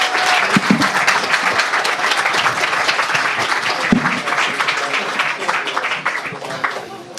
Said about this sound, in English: A very big applause for my two wonderful guests, Philippa and Anna.